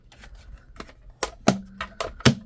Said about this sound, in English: So bring my little die cut machine real quick.